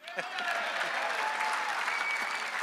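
Applause from an audience at a live event in Fredericton: a dense, steady wash of clapping that holds at an even level, with voices chatting and calling over it.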